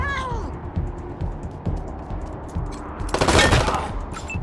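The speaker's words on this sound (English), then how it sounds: "You can shoot one more time." Gunfire in the Wasteland 3 video game, a few spaced sharp shots and a dense burst near the end, mixed with a brief cat-like meow at the start and other game sounds.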